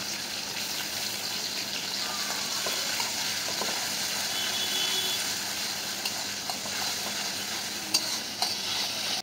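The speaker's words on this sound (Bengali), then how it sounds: "গাজরটা একটু ভাজা হয়ে গেছে, এখন দিয়ে দিব বরবটি।" Sliced carrots stir-frying in hot oil in a pan, a steady close sizzle with scraping stirs and a few sharp utensil clicks near the end, no talking.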